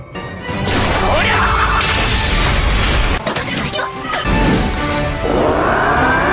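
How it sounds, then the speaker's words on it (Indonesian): In an anime fight scene, a thrown sword tip smashes into a castle ceiling. Loud crashing, whooshing and crumbling debris play over several seconds in dense layered impacts, with voices partly mixed in. "memungut ujung pedangnya dan melemparkannya ke langit-langit kastil, membuatnya hancur lebur"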